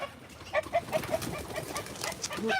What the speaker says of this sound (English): More pigeons flying out.